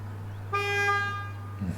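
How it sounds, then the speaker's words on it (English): A short car horn honk sounds as a game reward in the Wingspan board game, a single bright toot lasting about half a second over a steady low hum. "Getting honked at as a reward."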